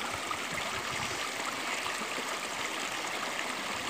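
A mountain waterfall and stream in the Chilean Andes give a constant, full rush of falling and flowing water, near and even throughout, with no voices over it.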